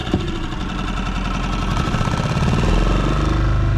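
Yamaha F90 outboard motor on a boat, rattling and chugging at close range as it runs, a rough, steady mechanical pulse that grows slightly louder and deeper toward the end.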